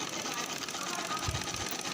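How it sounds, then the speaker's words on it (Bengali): A sewing machine stitches fabric during a sewing lesson, a steady fast whirring hum running continuously through the short stretch, close by and without speech. "দেখুন কত সুন্দরভাবে সেলাই করছি"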